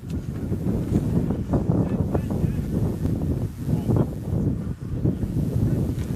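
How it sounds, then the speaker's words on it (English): Wind gusts across an outdoor men's college soccer match, buffeting the microphone in a continuous low, rumbling roar that swells and dips throughout. "Mentioned there wasn't much wind to start the contest, but it's picked up here."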